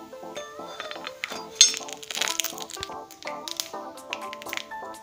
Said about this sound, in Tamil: இதில் கடுகு உளுந்து போட்டாச்சு.